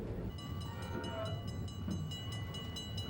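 Passenger train on the Blue Water Special excursion between Saginaw's Potter Street Station and Port Huron, a steady loud rumble of wheels on track with a faint repeating rhythmic clatter throughout.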